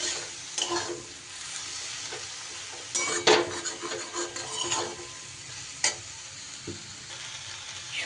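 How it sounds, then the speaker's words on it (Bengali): Vegetables with potato, turmeric and chilli stirred in a frying pan, a soft continuous sizzle with occasional scraping clinks of the spoon against the pan, close and fairly quiet, with no talking. "দিয়ে ভালো করে সবজিটা নাড়িয়ে চাড়িয়ে নিলাম"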